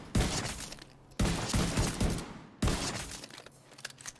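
Gunfire in the shooter video game The Division 2, three bursts of rapid shots, each abruptly starting and trailing off with crackling echoes, fairly loud and close with no voices.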